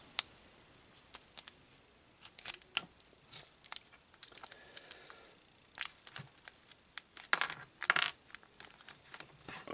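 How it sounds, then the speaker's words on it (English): A small plastic bag of screws for a Star Wars X-Wing model kit is opened by hand, producing scattered close crinkles and metallic clinks of the screws shifting, in quick irregular bursts with quiet gaps and no speech. "I'm going to open up this baggie of screws"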